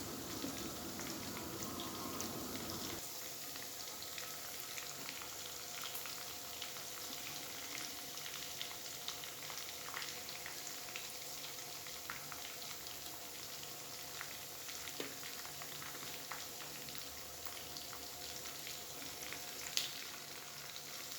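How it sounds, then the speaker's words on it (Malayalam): Chicken pieces deep-fry in oil over a medium flame, a continuous soft bubbling sizzle that holds fairly even for about twenty seconds with a few small pops. "അപ്പോൾ രണ്ടാമത് ഫ്രൈ ചെയ്യാനായിട്ട് ഇട്ട് കൊടുത്ത പീസസ് മീഡിയം ഫ്ലെയിമിലിരുന്ന് അങ്ങനെ ഫ്രൈ ആയിട്ട് വരട്ടെ കേട്ടോ."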